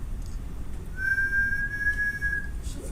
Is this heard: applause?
no